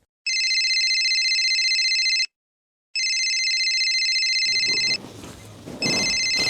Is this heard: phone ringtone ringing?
yes